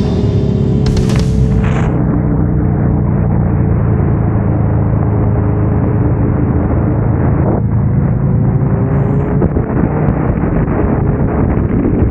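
A Triumph Speed Triple three-cylinder motorcycle cruising on a highway near Melbourne, its engine droning steadily and loudly with rising and falling pitch, heavy wind buffeting the microphone and a brief burst of passing noise early on.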